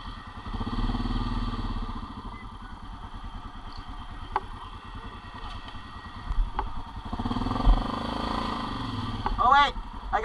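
ATV engine of a Yamaha or Honda running during a mudding outing, a steady low rumble throughout with some clattering thumps and revving toward the end, while people talk nearby.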